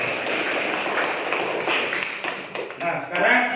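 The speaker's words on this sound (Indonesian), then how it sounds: "Kita berikan aplaus untuk kelompok B." A small group in a classroom claps after a student group's presentation. The clapping is quick and light and fairly close, rising briefly at the end, with a voice talking over it.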